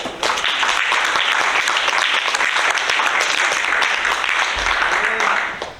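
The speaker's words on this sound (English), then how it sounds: "We can clap for those." Sustained applause from an audience at a community health summit in Sitka, dense and steady for several seconds before tapering off at the end.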